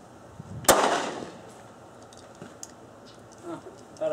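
A single pistol shot cracks loudly at a long-range shooting setting, its sharp report fading into a short decay, followed by faint small clicks.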